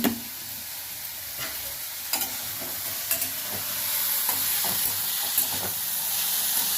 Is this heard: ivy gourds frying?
yes